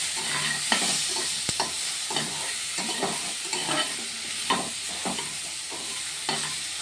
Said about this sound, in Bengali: হলুদ দিয়েও সুন্দর করে নাড়াচাড়া করবো যতক্ষণ না কাঁচা গন্ধটা যায়।